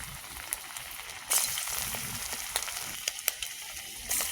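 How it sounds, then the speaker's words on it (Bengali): Lumps of coconut fritter batter mixed with rice flour fry in hot oil, giving a close, steady sizzle broken by sharp pops and crackles, with a louder surge as more batter drops in. "মেশানো হয়ে গেছে, দলা করে তেলের মধ্যে ছেড়ে দেবো।"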